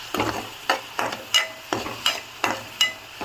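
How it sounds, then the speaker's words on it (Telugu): Finely chopped tomato sizzles in a hot pan while a utensil stirs it in regular scraping strokes, roughly two per second, each stroke a short burst over the quieter frying hiss. "ఇందులోకి సన్నగా తరిగి పెట్టుకున్న టొమాటో వేసుకుందాము."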